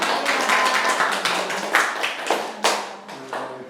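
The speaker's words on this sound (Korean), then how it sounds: "박수 한번 드릴까요?" Audience clapping at a lecture class, a dense patter of hands that thins out over a few seconds into scattered claps and stops, with no talk over it.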